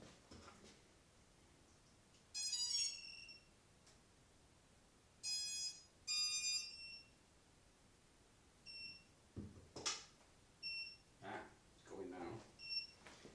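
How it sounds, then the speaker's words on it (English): Faint high electronic beeps from a V-Fly Finder 2 lost-model buzzer, a few short clusters of chirps early on, then scattered quieter beeps among soft handling noises and low background hiss. "it should start flashing and beeping its head off"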